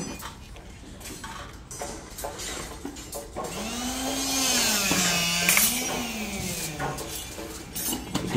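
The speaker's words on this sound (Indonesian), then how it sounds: "Itu tukang besi lagi, motongan besi." Steel bars being cut by an ironworker at a construction site in Korea, heard as a steady grinding whine that rises and falls in pitch partway through, against ongoing site machinery noise.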